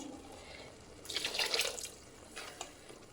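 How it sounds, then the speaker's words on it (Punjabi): Hot water is poured into a pot of spiced potato and pea curry, a soft splashing pour of about a second followed by a shorter second splash, faint and close with no talk. "ਆਪਾਂ ਇਹ ਚ ਪਾਵਾਂਗੇ ਗਰਮ ਪਾਣੀ"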